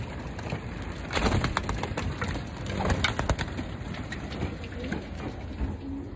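Racing pigeons bathe in water with an irregular patter of splashes and flapping wings, busy and fairly close, with flurries of louder splashing among quieter dripping.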